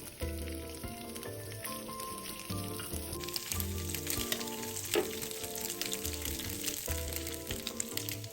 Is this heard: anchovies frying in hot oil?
yes